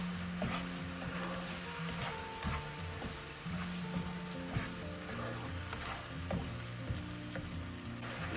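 Masala with cut coriander leaves fries in a pan with a continuous sizzle, while a spoon or spatula scrapes and taps the pan in an irregular rhythm, close up and with no voices.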